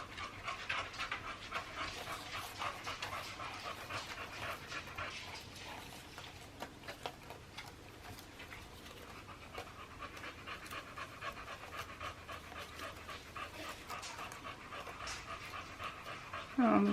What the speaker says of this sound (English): That would be Dory panting at the door.